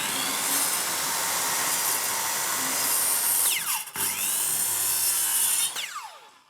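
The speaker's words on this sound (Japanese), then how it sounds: "ここにいっぱい丸のこの刃を入れていきます" A circular saw blade set to tenon depth cuts into wood across a tenon shoulder, a steady loud whine running under repeated passes that ends as the blade spins down near the close.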